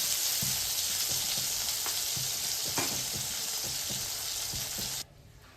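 Tomato puree and a splash of water sizzle in a frying pan, a loud, close, steady hiss with soft stirring knocks beneath, cutting off abruptly near the end.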